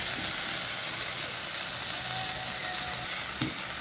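Jackfruit and pre-fried potatoes sizzle steadily in a spiced pan as they are stir-fried for an Indian-style prawn curry, with a continuous close hiss and occasional scrape or clatter of a spoon.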